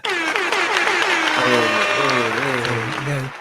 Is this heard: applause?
yes